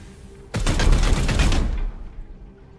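Support-fire volley in Warhammer 40k Chaos Gate Daemonhunters, a sudden burst of rapid automatic gunfire starting abruptly and rattling loudly for over a second before cutting off, alone without talk.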